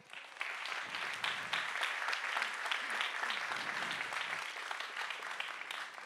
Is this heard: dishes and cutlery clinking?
no